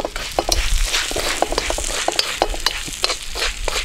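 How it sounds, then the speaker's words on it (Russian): Orzo in butter fries with mushrooms in a pan, a loud close sizzle broken by frequent clicking stirs and scrapes of a spoon against the pan. "Добавляем полпачки нашего ризони. И все хорошо, это немножко обжариваем."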